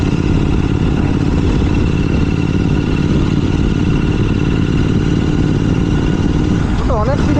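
A GT 650 motorcycle fitted with an RRP exhaust rides on a morning road, its engine rumbling loud and steady throughout. There is heavy wind rush, and a voice speaks briefly near the end.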